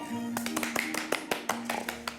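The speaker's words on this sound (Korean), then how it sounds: "박수 한번." A few people clapping on a Korean cooking segment, several sharp, close hand claps scattered irregularly with a voice speaking over them.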